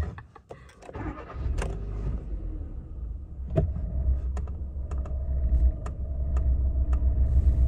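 A car engine cranks and catches, then idles with a low steady rumble that grows louder, under a scatter of clicks and taps from inside the cabin.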